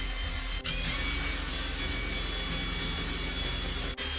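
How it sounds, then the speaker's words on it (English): A steady, loud whir of a cordless drill sanding plastic runs continuously without pause, with a gritty abrasive hiss layered on top and two brief dips. "Run the drill at a moderate speed and sand in short passes"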